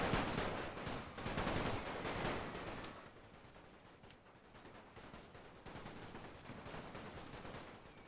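Musket volleys in the Napoleon Total War game, modded for a Great War German Empire campaign, sound as a dense rolling crackle of many shots. The fire is loud at first, then fades to a thinner scattered crackle.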